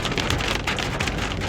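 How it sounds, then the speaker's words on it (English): Rain and hail pounding down during a storm on the desert playa at Black Rock City, a dense, loud hiss of impacts with sharper bursts of pelting, continuous and close, with no voices. "It is officially snowing, hailing, raining on the playa."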